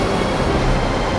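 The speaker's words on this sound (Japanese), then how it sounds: "なんだ、新しい海列車か。" Rumbling, continuous rail-like roar of an approaching sea train in an anime parody, loud and steady throughout with dense broadband noise and no clear wheel clicks.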